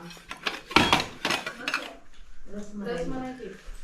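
Plates and cutlery clatter and clink as dishes are gathered in a village homestay kitchen during a biryani meal, a close burst of sharp clanks followed by someone talking.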